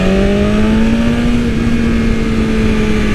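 A 2020 BMW S1000RR motorcycle with an ECU flash and louder exhaust cruising, its engine droning loud and steady with a slowly rising tone and no voices.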